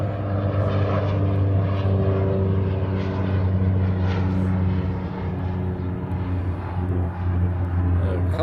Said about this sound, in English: We have a Southwest heading out to the reef runway.